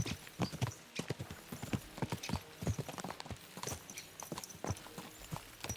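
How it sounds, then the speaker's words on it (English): Horses gallop in Kingdom Come Deliverance 2, their hooves clip-clopping in a fast, steady rhythm close by, loud and continuous with a faint whinny in the mix. "Let's really spur these horses on, eh?"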